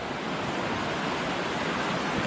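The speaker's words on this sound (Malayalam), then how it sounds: "നമ്മൾ പ്രതീക്ഷിക്കാതെ കിട്ടിയൊരു വെള്ളച്ചാട്ടാട്ടോ ഇത്" A small waterfall beside a hilly route near Odakkayam in Malappuram, Kerala, gives off a close, continuous rushing hiss of water, loud and even throughout.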